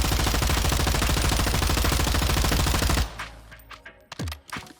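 Rapid automatic rifle fire from a meta loadout in Warzone 2, a loud, fast sustained burst for about three seconds, then the shooting stops and a few quieter clicks and handling sounds follow.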